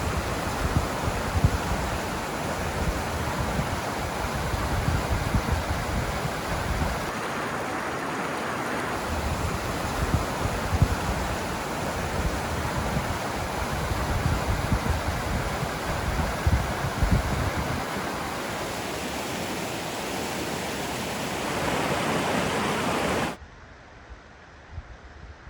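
Split Rock Rapids on the Oxtongue River in Algonquin pour in a loud, steady rush of broadband water noise that fills the whole stretch without letup before cutting off abruptly near the end, with no voices.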